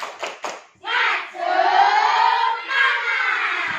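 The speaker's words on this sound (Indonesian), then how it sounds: "coba dicek sama tepuk semangat" A classroom of children doing the spirit clap chant: a few claps, then the class shouting the chant together in a loud sustained group cry with a second shouted phrase.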